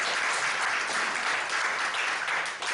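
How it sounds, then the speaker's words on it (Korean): A crowd claps warmly and continuously, a thick, even wash of many hands held at a steady level throughout. "박수 한번 보내드리겠습니다"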